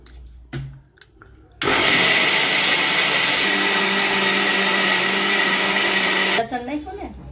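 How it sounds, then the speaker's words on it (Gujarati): A mixer grinder blends soaked rice, dal, garlic and buttermilk for dhokla batter, starting abruptly into a loud, steady, high-pitched whine that runs for about five seconds before cutting off, with brief voices before and after. "અને પછી મિક્સરમાં કરી નાખવાનું બરાબર ફ્રેશ"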